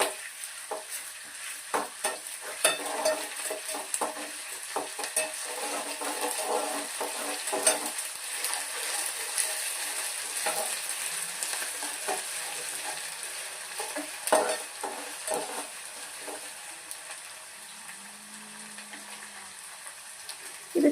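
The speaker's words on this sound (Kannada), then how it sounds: "ಜಿಂಜರ್ ಗಾರ್ಲಿಕ್ ಪೇಸ್ಟ್ ಇದು ಸ್ವಲ್ಪ ಚೆನ್ನಾಗಿ ಫ್ರೈ ಆಗಲಿ." Ginger garlic paste frying in a pan for a paneer gravy, a steady close sizzle and crackle running throughout, with occasional spoon stirring and scraping sounds on top.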